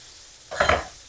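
A spoon giving one brief stir to red chili, coriander powder, turmeric and salt in a pan while making spicy okra, with a short soft scrape and light sizzle, alone and nearby.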